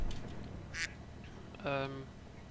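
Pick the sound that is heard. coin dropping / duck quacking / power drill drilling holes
duck quacking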